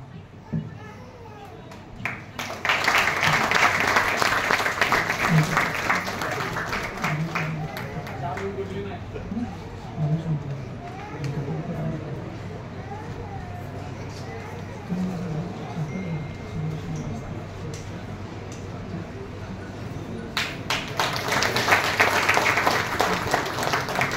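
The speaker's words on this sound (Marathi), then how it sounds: "जोरात टाळ्या वाजवून त्यांचं स्वागत व अभिनंदन करावं" Audience at an award ceremony in Solapur applauds the honourees with loud, sustained clapping that swells, holds steady, then rises again near the end, with a voice and crowd chatter audible beneath.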